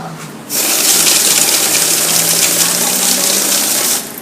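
EUROX 1760 banknote counter running a stack of 60 notes again, a loud steady whirring rush that starts abruptly, holds for about three and a half seconds, then cuts off.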